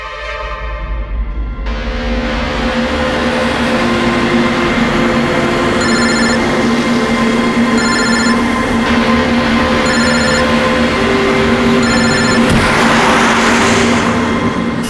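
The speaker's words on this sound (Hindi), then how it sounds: "कब से लैंडलाइन पे फोन कर रहा हूं सर, फोन ही नहीं उठा रहे।" A landline telephone rings in repeated bursts and goes unanswered, each ring standing out over a steady background drone in a tense crime-drama scene.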